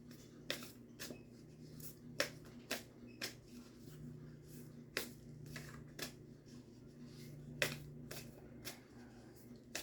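Cards being shuffled close up in quiet, crisp riffling bursts spaced about a second apart over a low steady hum.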